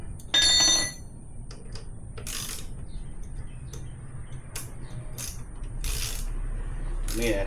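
Ratchet clicking on the axle of a KLR650 dual-sport motorcycle during tire mounting, a few short rapid bursts of mechanical clicks spread across the clip with quiet gaps between them.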